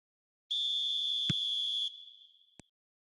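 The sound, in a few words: referee's whistle starting second half of football match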